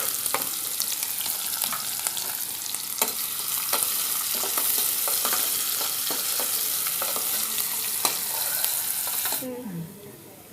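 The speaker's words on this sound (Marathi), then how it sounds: "कांदा टाकते." Onion frying in a pan for a besan and yogurt kadhi, a loud continuous close sizzle with frequent sharp stirring scrapes that stops abruptly near the end.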